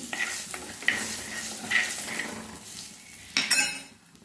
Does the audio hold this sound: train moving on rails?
no